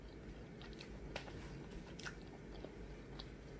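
A vegan lunch of sautéed yellow squash and baked sweet potatoes is chewed close to the mic, soft wet bites and crunches in a steady rhythm, with no talking.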